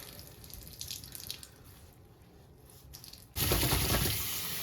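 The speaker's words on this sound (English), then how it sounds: "get that warm water and have it run through it" Warm tap water pours through a soaked fabric playmat during the final rinse: a steady hiss of running water that suddenly grows much louder and fuller partway through, with no talking.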